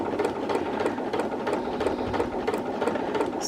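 A sewing machine stitches along the interfaced side of a McCall's 8385 collar, a steady close mechanical whir with even, rapid needle ticks, running alone.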